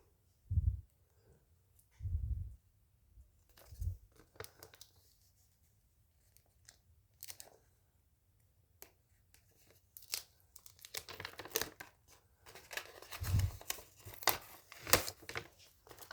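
A package is opened by hand, with a few soft thumps, then scattered tearing and crinkling of plastic packaging, faint and close, growing busier toward the end.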